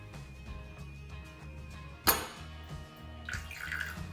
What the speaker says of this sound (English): We added the water.